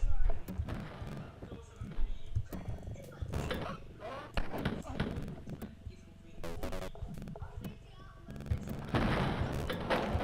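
Bursts of gunfire crackle repeatedly in the video game Wolfenstein 3D, sharp retro shots and explosions arriving in uneven clusters while someone talks over the action.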